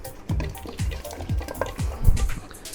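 Tomatoes and onions cooking in a pot for pork sinigang, stirred with a utensil that scrapes and clacks in a steady rhythm against the pot over a soft, wet simmering sizzle.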